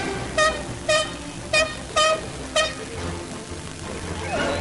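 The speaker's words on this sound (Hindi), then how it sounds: "कहीं प्रेशर हॉर्न बज रहे हैं" Loud pressure horns blast five times in short, evenly spaced honks over a background of road traffic, followed by rumbling vehicle noise.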